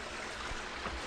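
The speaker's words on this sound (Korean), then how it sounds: "반가운 물소리가 들립니다" Mountain valley stream in a remote, deep forest, water flowing steadily as a continuous broadband rush, fairly close and moderately loud, with no voices over it.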